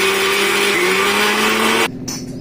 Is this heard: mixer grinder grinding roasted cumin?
yes